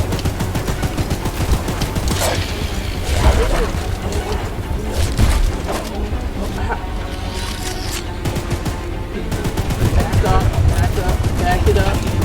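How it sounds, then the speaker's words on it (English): Gunfire in the train horror game Choo Choo Charles: rapid, dense volleys of shots that keep going almost without pause, loud and close, with a person talking over them. "Just keep shooting."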